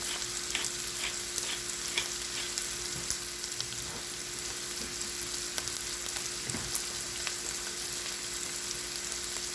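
Sausage gravy sizzling steadily in a pan, a constant low frying hiss with occasional soft pops and stirring scrapes, close and even throughout.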